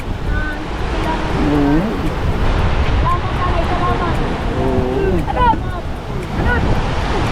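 Strong wind buffets an outdoor microphone in a steady roar, with people talking over it throughout.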